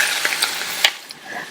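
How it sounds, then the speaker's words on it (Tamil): Potato curry with chopped coriander leaves gets stirred in a pan, a few quick scraping knocks of the spoon over a soft sizzle, close and brief with no speech. "நல்லா ஒரு தடவை மிக்ஸ் பண்ணி விட்டுட்டு ஸ்டவ் ஆஃப் பண்ணிடலாம்"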